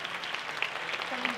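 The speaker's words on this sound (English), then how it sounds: "Let's give these ladies a round of applause." An audience at a 2020 holiday show applauds steadily, a dense wash of clapping with no pause throughout.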